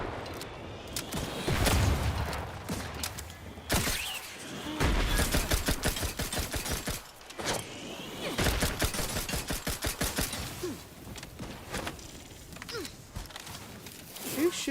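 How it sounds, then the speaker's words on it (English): Enemies open fire in The Outer Worlds 2, with bursts of sharp gunshots and rapid volleys repeating through the scene, loud and close, mixed with footsteps and mechanical clatter. "Who's shooting at me? There's somebody else shooting me."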